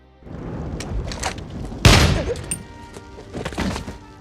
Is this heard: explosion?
yes